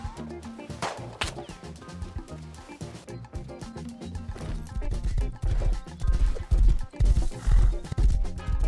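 A horse neighs in the video game Rust, followed by heavy clip-clopping hooves that grow louder and more rhythmic as it gallops, with game sound effects around it.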